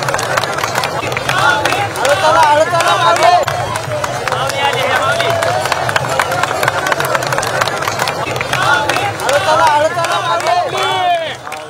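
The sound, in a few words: crowd clapping to cheer a running woman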